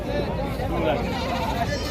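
A goat bleats amid a busy livestock market at Mohammadpur, its cry mixed into steady crowd chatter and nearby voices talking throughout the short stretch.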